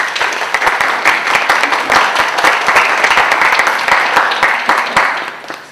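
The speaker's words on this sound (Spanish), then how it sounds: "No aplaudan todavía, esperen a que hable, a ver si vale la pena." Loud, close applause from a seminar audience, with many distinct sharp claps over a steady wash that tapers slightly near the end.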